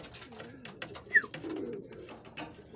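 Pigeons cooing softly at a loft entrance, with a few low, faint coos and a brief chirp over quiet outdoor background.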